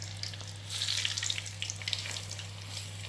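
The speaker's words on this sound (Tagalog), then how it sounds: "Medyo mainit yung mantika. Deep fry." Calamari deep frying in hot oil, a steady crackling sizzle with a rush of denser popping partway through, close by over a low electrical hum.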